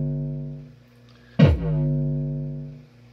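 Single Befaco Kickall bass drum module hit with a clean, undistorted output: a sharp, loud thump with a brief bright attack, then a deep tonal boom that sustains and fades slowly, alone over a faint hum.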